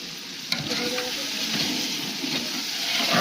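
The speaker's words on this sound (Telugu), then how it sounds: "అడుగు అంటకుండా ఒకసారి బాగా కింది నుండి అయితే ఇంకా బాగా కలుపుతున్నారు తను" Rice stirred up from the bottom of a cooking pot with lemon added, a steady close scraping and sizzling texture that runs continuously with no talk.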